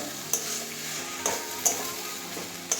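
Potatoes and water spinach fry in a pan with a steady sizzle, while a spatula scrapes through them in a few separate strokes, close and fairly quiet.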